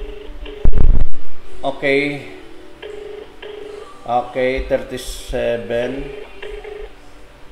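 Telephone dialing tones sound as a series of short, clear beeps in a mixed sequence during a call-in broadcast, close and fairly loud, with people talking around and over them.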